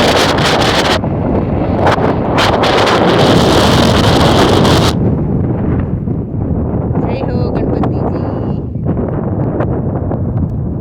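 Strong wind blowing beside a clean natural river near Sapada, Jamnagar, Gujarat, roaring loudly against the microphone throughout. A voice speaks over it for a stretch.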